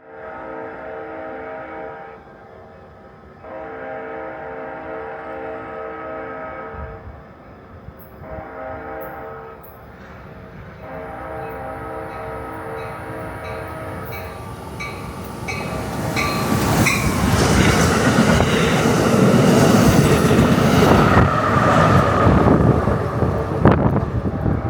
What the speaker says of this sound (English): a southbound Amtrak Cascades train that has left Tacoma Dome Station